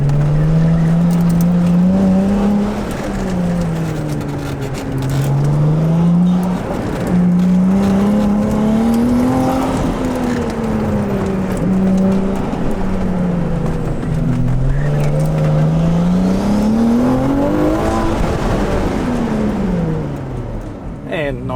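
A Ferrari 296 GTB lapping a tight gymkhana course at a Ferrari event, its engine note rising and falling steadily as it accelerates and brakes through the turns, loud and close for the whole run.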